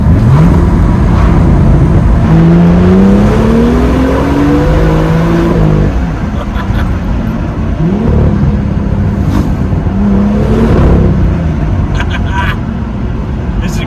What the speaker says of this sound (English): Well, this is a good place for the exhaust.